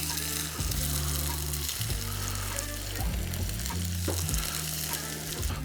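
Potatoes frying in hot bacon fat in a pan, a continuous loud sizzle with bursts of stirring and shuffling, nobody talking.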